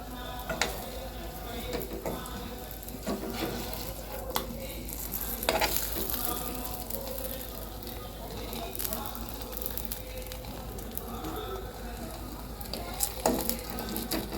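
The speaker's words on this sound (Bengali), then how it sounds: "কড়া গরম হয়ে গেছে এবার আমি একটা একটা করে ভেজে নেবো" Kachori fry one by one in hot oil in a wok, a continuous soft sizzle and bubbling with occasional sharp clicks and scrapes of a utensil, fairly faint and steady throughout.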